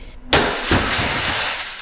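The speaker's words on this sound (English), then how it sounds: "They broke our front door, they shattered the glass, they shattered our vestibule glass" A glass front door is smashed during a break-in, caught on a surveillance camera: a sudden loud crash of breaking glass, then a sustained spray of shards and tinkling debris that slowly fades.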